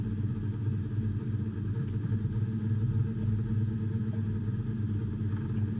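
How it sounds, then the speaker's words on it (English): Race car engines in a racing video game drone on steadily, a dense, even rumble that holds at a constant level throughout with no talking. "engines fired up"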